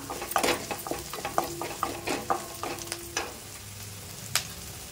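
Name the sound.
onions sautéing in a pan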